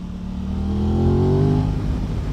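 A sport motorcycle engine with factory exhaust revs up, its pitch climbing smoothly and then easing off, loud and close with no voices.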